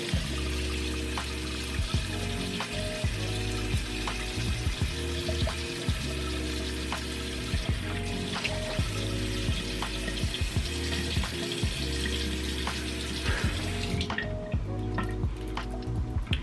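Steady running water from a bathroom sink tap during a nighttime face wash, with drips and splashes throughout and close, continuous flow that cuts off near the end.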